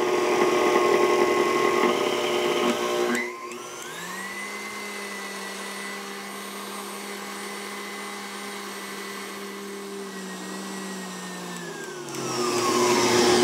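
An electric mixer runs steadily for several seconds, whirring with a constant motor hum while blending powdery keto pizza crust ingredients, starting and stopping abruptly with background noise around it.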